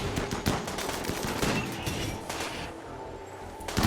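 RimWorld gunfight: rapid bursts of game gunfire crackle continuously, close and fairly busy, with overlapping shots and no talk.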